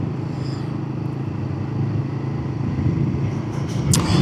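Royal Enfield 450 motorcycle being ridden, a steady low engine rumble with wind noise, the engine note rising slightly toward the end as gears are changed.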